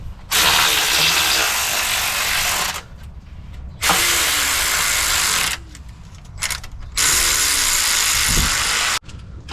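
Ratchet working on 10mm bolts during an engine sump job, a close, loud continuous clicking run in three long bursts separated by brief pauses, with no talk.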